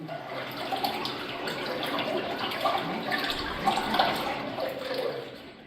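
A spring meltwater stream babbles and trickles continuously at moderate loudness, a steady wash of flowing water with bright gurgles and no voices.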